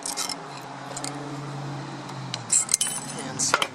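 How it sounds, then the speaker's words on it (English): Old brake pad clips are pried off a caliper bracket on a Pontiac Vibe or Toyota Matrix front brake with a screwdriver, giving a few sharp metallic clinks and pops, mostly in the last second and a half. "Use this old screwdriver, pop those out of the way."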